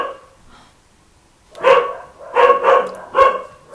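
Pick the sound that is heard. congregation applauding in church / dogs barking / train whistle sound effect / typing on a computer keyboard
dogs barking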